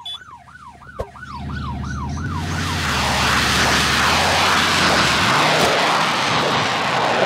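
A wailing SWAT vehicle siren in a video game cycles steadily up and down, at first alone and then under a rising loud engine roar that swells and masks the wail.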